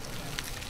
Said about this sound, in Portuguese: E o fogo alto, tá dando pra ouvir o arroz.